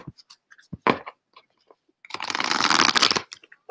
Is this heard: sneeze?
no